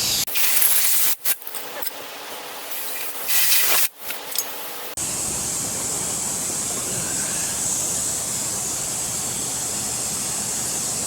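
Compressed air blasts debris off a freeze-cracked 400 engine block: loud, close, gusty hissing bursts with brief pauses, then a steady high airy rush.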